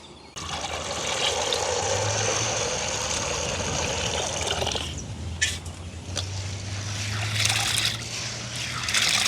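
Soaked grains being washed in water by hand in a village kitchen, a steady sloshing and trickling that runs on, then eases into swirls and splashes, with no talk.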